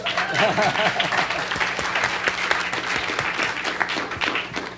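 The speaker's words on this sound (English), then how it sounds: "So I saw a little clapping." Sustained audience applause at an awards ceremony, a dense, steady patter of many hands clapping in a room, fairly loud throughout.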